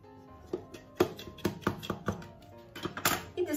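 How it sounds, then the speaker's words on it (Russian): A kitchen knife scraping around the inside edge of a sponge cake tin, a run of close, sharp clicks and scrapes at a steady rhythm, with a louder clatter near the end. "Немного провожу по краям ножом."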